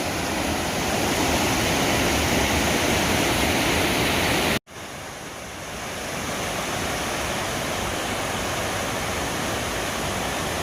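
Waterfall at Steels Creek, North Carolina, a steady, loud broadband rush of falling water that continues alone with a brief break partway through.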